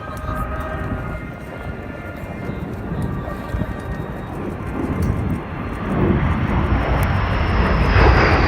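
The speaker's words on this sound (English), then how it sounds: "a simulated ground attack at the Barksdale Air Show in the plane called a B-52" A B-52 bomber roars overhead during a simulated ground attack at the Barksdale Air Show. The loud, steady jet engine rumble swells toward the end of the pass, with crowd noise faint in the background.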